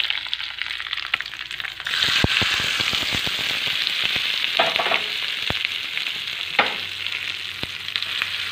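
Tempering for mint chutney with tamarind: seasonings hit hot oil with a sudden loud sizzle that stays steady, dotted with sharp pops and crackles and a stirring clatter.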